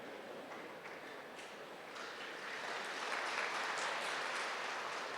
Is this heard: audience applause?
yes